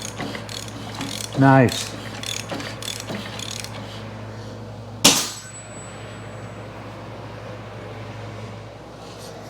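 A ratchet wrench turns over a rat rod engine by hand, giving a quick run of close clicks, then a sharp metallic clank followed by a thin ringing tone; one brief spoken word comes early.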